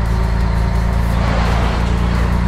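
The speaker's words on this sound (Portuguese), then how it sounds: "Vou baixar o vídeo aqui pra vocês escutar um pouco mais o ronco do caminhão aí" A truck's diesel engine rumbles steadily at close range, a deep continuous drone with harmonic throb and no voices, while it drives in a convoy.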